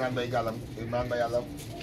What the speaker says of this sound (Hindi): इमरान आलम भाई के घर के, माशाल्लाह से मेन वर्ल्ड फेमस कबूतर